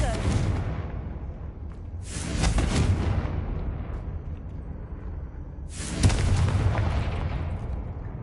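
Fiery blasting-spell explosions in Hogwarts Legacy, three loud broadband bursts a few seconds apart, each with a rumbling low tail, over a steady game background with a bit of voice.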